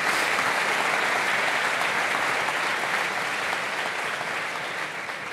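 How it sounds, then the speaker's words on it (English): Steady, dense audience applause fills a large room at an activism event, loud and unbroken throughout before easing slightly at the end. "Let's give her a round of applause for getting through that lightning round."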